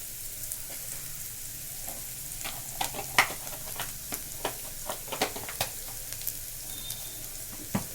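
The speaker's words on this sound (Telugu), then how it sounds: "దీంట్లో ముందుగా సిద్ధం చేసుకున్న కొబ్బరి పొడిని వేస్తున్నాను" Freshly prepared coconut powder being stirred into a frying pan for a carrot and moong dal curry: steady soft sizzle under a run of sharp spatula scrapes and clicks, close and moderately loud, with no talking.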